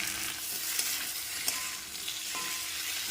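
Ginger-garlic paste and green chilli fry in a hot pan, giving a constant close sizzle and hiss with occasional light stirring clicks, and no voices.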